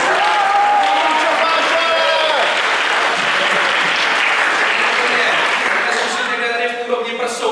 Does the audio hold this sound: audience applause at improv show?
yes